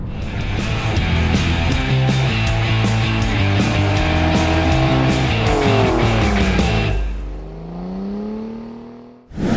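A BMW X6 M (F86) driving fast, its engine loud and rising in pitch as it accelerates hard through gear changes, then a falling, fading whine as it eases off, all heard with no talk.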